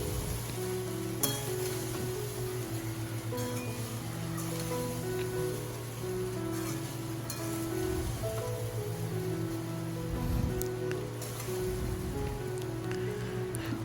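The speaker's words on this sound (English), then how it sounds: "I'm going to give the fried rice a good stir" Fried rice with light soy sauce is stirred in a hot pan, giving a steady, close crackling sizzle throughout with a low hum underneath and scattered sharper pops.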